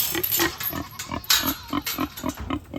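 A pig grunts in short, repeated bursts at a steady rhythm, close and fairly loud, with no talking.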